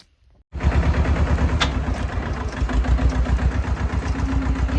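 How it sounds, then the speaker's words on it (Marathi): A farm tractor's engine starts up after a brief quiet moment, then runs loud and steady with a rapid, rhythmic diesel chug close by. "आता चला आपण जाऊ शेतामध्ये ट्रॅक्टर घेऊन"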